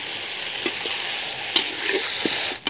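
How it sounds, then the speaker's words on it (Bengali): Spiced country chicken fries in a wok over a wood fire, with a loud, dense hiss as water is poured in and a few scattered pops and spatters. "এবার এর মধ্যে দিয়ে দিচ্ছি জল।"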